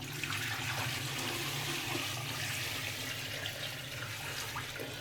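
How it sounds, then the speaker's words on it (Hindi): Strained beef stock poured into a pot of beef trotters that had been frying for several minutes, a steady rushing splash of liquid that holds at an even, fairly loud level throughout with no talking. "अब हम इसमें यखनी ऐड करेंगे जो हमने छान के रखी थी।"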